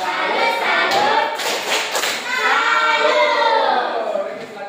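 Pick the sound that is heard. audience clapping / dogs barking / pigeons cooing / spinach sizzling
audience clapping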